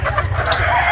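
A gamefowl pullet clucks close by on a farm, a brief loud burst of throaty fowl calls with a low background rumble.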